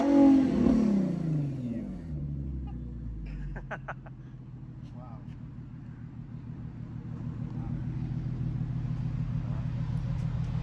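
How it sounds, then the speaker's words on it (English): An Infiniti G37's engine roars loudly at first, then drops to a low steady idle rumble that slowly swells again, with a few brief clicks in between. "Give it a few revs."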